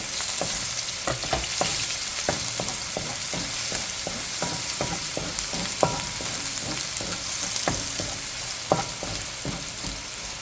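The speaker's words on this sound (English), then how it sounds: "We're gonna cook our garlic" Garlic fries in a pan for a Filipino beef mechado with a continuous hiss of sizzling oil, broken by regular clicks and scrapes from a spatula stirring, close and steady with no voices.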